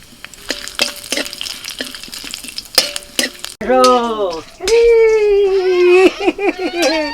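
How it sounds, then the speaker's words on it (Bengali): Bay leaf and whole cumin sizzle in hot oil in a wok with a crackly hiss and scattered pops, then children's voices and giggling take over, loud and close. "কড়াইতে তেজপাতা দিয়েছি আর দিচ্ছি অল্প একটু গোটা জিরে"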